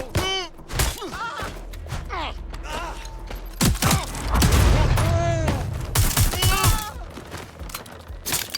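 Video game gunfire in Watch Dogs Legion: repeated shots and bursts among thuds and mechanical clatter, layered over voices and music in a busy, loud combat scene.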